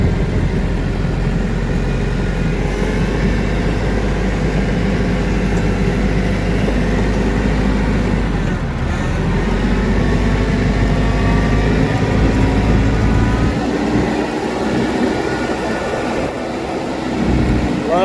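A TYM T574 HST tractor engine drones steadily and loudly while the tractor is driven, with a continuous low rumble and slight changes in load over the run.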